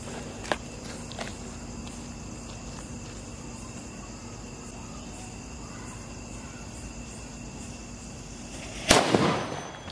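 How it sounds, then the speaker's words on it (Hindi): A Lion brand Diwali firecracker bursts outdoors with a single loud, sharp bang near the end. Before it comes a long quiet stretch of steady cricket chirping with a couple of faint ticks. "गाइस टेस्ट करते हैं इस वाले लायन के पटाखे को, देखते हैं इसका साउंड कितना देखने को मिलता है।"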